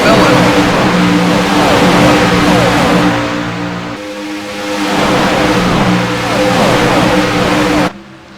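Race cars at Talladega Super Speedway roar past in a loud, sustained engine drone that swells and fades as the pack goes by, with commentary talk running underneath.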